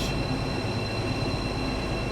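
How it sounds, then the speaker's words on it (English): A BR218 German diesel locomotive runs on the Birmingham Cross City Line in a train simulator game, giving a loud, steady rumble of engine and rolling wheels with no break. "Just doing a free roam along Birmingham Crossing at the moment with a German train."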